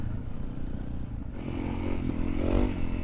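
Honda CRF motorcycle ridden along a road in central Finland, its engine droning steadily and close throughout, rising slightly as it pulls ahead, with wind rush over it.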